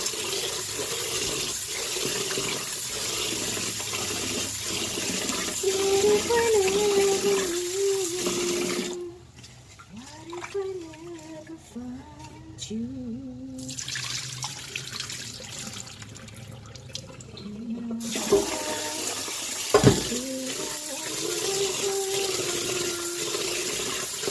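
Running water flows steadily from a tap during washing, cutting off briefly partway through before resuming, with clinks and handling noises and one sharp knock near the end.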